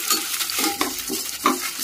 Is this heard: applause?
no